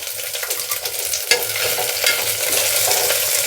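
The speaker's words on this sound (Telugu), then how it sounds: "చూడండి, అన్నీ నెయ్యిలోనే వేయించుతున్నాను" Vegetables, curry leaves and lentils fry and sizzle in ghee in a pan for a vegetable khichdi, a steady close hiss with spoon stirring scrapes throughout, no voices.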